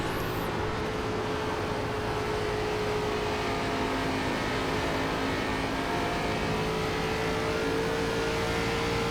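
ARCA Menards Series stock car engine in iRacing at Homestead, droning loud and steady at high revs for the whole stretch with a sustained tonal whine, no voices over it.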